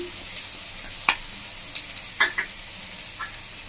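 Ground cumin and turmeric fry in hot oil in a pan, a quiet continuous sizzle punctuated by a few sharp spatters and clicks of a spoon, close and without voices.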